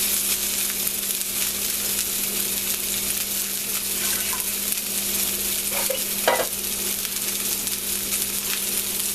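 Beef sears in a pan with a steady, loud, close sizzle and crackle, broken by a few brief stirring scrapes partway through.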